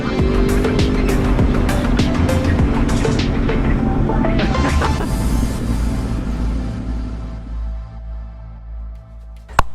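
A Yamaha R1 motorcycle rides hard along the lava road in Réunion, its engine roaring loud and continuous with rising and falling revs and heavy wind rush, easing toward the end.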